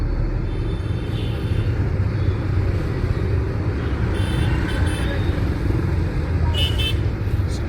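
A car holds third gear in slow city traffic at around 28 km/h, its steady engine rumble and road noise running continuously, with horns tooting intermittently nearby.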